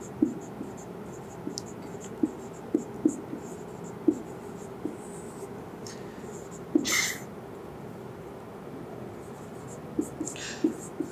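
Marker or chalk tapping and scratching on a board in a chemistry classroom, with short sparse strokes and taps scattered irregularly through a quiet room, plus a brief louder scrape midway and faint background voice.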